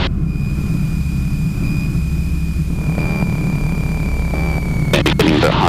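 Light airplane engine drones steadily and loud throughout a short-field landing approach onto a grass runway, a constant propeller hum with a faint whine, ending in a burst of clattering noise near the end.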